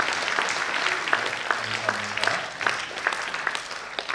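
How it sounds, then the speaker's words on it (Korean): Audience applause at a Korean peace and reunification prayer meeting, a steady wash of clapping with a few sharper claps standing out, and a brief low voice murmuring underneath. "여러분 뜨거운 박수로 축하해 주시기 바랍니다"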